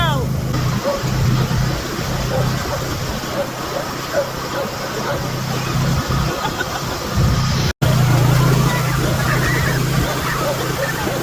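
A small tractor pulling a trailer runs at a steady drone with a low engine hum throughout, with outdoor noise and a brief dropout near the end.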